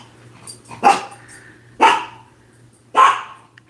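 A dog barks three times, sharp and fairly close, with short gaps between each bark and no other sounds.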